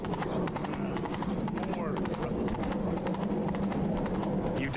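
Galloping horse hooves in The Witcher 3: Wild Hunt on Skellige, a rapid rhythmic clip-clop under game music and sound effects, with a character's voice speaking over the ride.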